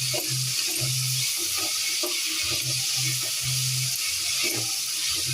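Mixed vegetables sautéing in ghee for vegetable biryani, giving a loud, continuous frying hiss close up, with a low humming tone that repeatedly starts and stops underneath.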